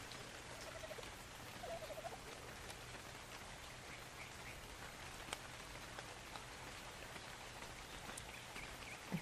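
Rain in the survival game Ark Survival Evolved, a faint continuous patter and hiss with scattered drops, low in level and steady throughout, with no talking.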